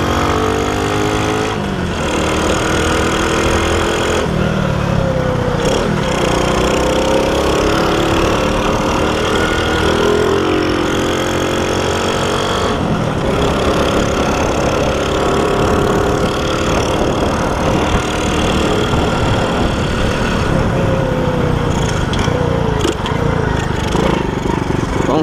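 A car engine idles unevenly and misfires while running low on fuel, a steady mid-pitched rumble with irregular stumbles throughout, close and loud, with no talk over it.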